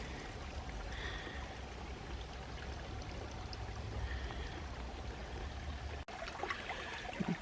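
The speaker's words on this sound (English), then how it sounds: "Two little streams join" Two small streams meeting in Bankhead National Forest, Alabama, make a steady, soft trickle and gurgle of flowing water that continues without a break, with faint outdoor ambience.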